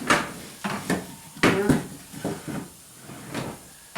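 Wooden chopping board on a DIY camp kitchen built into a Land Rover 101 being slid away, giving a series of close knocks, scrapes and clunks, with a louder thud-like clatter in the middle and no talking.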